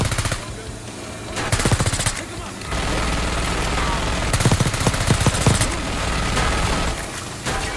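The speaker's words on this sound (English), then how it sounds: "Watch the minigun." A minigun in Call of Duty: Black Ops 6 fires in loud sustained bursts, rapid dense gunfire swelling and easing across the stretch amid battle noise, with brief voice chatter mixed in.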